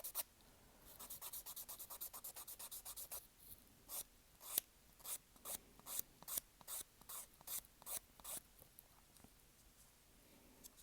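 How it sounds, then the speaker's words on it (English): A fingernail is filed with a nail file while being shaped back to length after a broken nail was patched with coffee filter and gel. Close, dry rasping strokes come in a quick steady run, then in slower separate passes with short pauses. "Just filing it back to the length that I had it."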